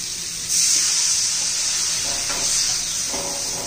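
A glass of water goes into a hot frying pan of drumstick pods with spices, and a sudden loud rushing sizzle starts and holds steady.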